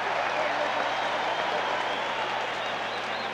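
Steady, dense crowd roar fills a baseball stadium during a 1980 National League Championship Series game between the Phillies and Astros, a constant loud wash of noise with some applause in it, holding level throughout.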